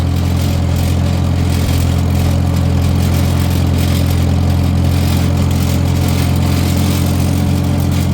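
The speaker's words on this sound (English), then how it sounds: "Beautiful day for a tractor ride." An old Farmall H tractor, its engine revived after being stuck, chugs steadily while being driven around a house, a loud continuous low rumble with constant throttle and no talking.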